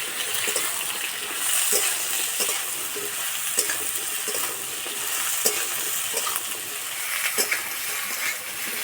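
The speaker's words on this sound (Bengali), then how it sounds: "ঝিঙেটা এইভাবে কিছুক্ষণ ভালো করে ভেজে নেবো" Chopped ridge gourd fries in hot oil with black cumin (nigella), giving a steady, close, loud sizzle with occasional stirring clicks and no talk.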